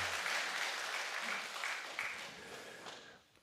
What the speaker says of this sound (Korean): 우리 감사의 박수 한번 해주시면 좋겠습니다.